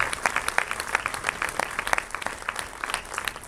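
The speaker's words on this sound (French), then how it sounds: "Allez, je vais vous faire applaudir le comédien, l'auteur, le réalisateur, celui que vous attendez tous, c'est Danny B" An audience claps for the actor at a film premiere screening in Saint-Jean-de-Luz, a steady patter of many hands that keeps going without a break, moderately loud and close.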